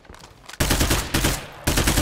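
Heavy gunfire in the video game State of Decay 2, three loud, close bursts crashing in one after another after a quieter opening.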